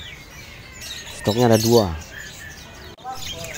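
White starling (jalak putih) calls at a bird market stall, a short burst of tweeting and chirping close by, with someone speaking briefly over the birds.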